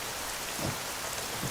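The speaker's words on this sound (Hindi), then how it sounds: "बारिश भी होने लगी" Rain falls in a steady, dense hiss, with a few soft low thumps showing through. It sounds moderately distant and continuous, with no talk.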